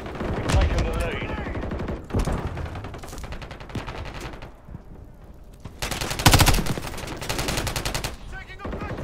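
Rapid automatic gunfire bursts in a Call of Duty Modern Warfare III multiplayer match on the Rust map, loud and close, with heavy volleys near the start and again mid-way, under radio-style callouts and game voices.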